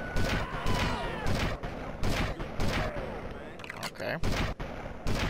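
Repeated sniper rifle shots in GTA Vice City, sharp cracks recurring roughly every second over game ambience, with a brief spoken word.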